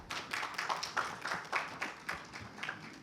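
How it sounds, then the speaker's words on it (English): Audience at a corporate panel session on white collar crime and fraud applauds a speaker, with scattered individual claps in an uneven rhythm that sound fairly faint and distant, as from a modest crowd. "Let's give a warm round of applause"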